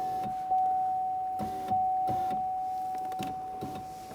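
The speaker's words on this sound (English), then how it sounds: "Just raise the window a little bit." Power window motor in a Buick Enclave door runs in several short bursts, each a low mechanical whir, with a steady electronic tone underneath.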